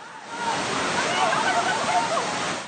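Fast floodwater surging down a street after heavy rain, a loud continuous rushing and sloshing roar that holds steady from start to finish.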